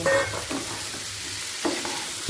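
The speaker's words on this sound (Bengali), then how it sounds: "এই সময় ভেজে রাখা আলু আর পটলটা দিয়ে মশলার সাথে ভালো করে কষিয়ে নেব" Potatoes and pointed gourd are stirred into a frying ginger spice paste in a pan, giving a soft steady sizzle with a few scraping stirs, close by and with no talking.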